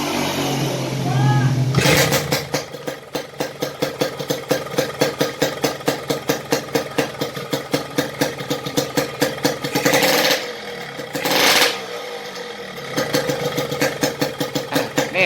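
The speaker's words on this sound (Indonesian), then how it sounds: "Ini bentar saya nyalain ya motornya ya." A Yamaha RX King two-stroke motorcycle with aftermarket block, membrane, exhaust and ignition is started after a quiet moment, then idles with a rapid, steady popping beat, broken by a couple of sharp throttle blips before settling back.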